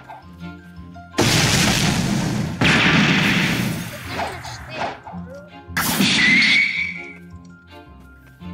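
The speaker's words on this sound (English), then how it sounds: "That's mythical bomb." In the Blox Fruits video game a mythical bomb goes off in loud booming blasts, one heavy burst followed by a second and a third crashing hit with a whistling tail, over a soft game music bed.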